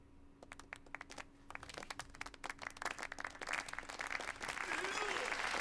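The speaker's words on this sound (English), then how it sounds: "a round of applause for the gentleman's courage" Applause in Yakuza 0 builds from scattered claps into a thick, sustained round of clapping from a crowd, growing louder toward the end.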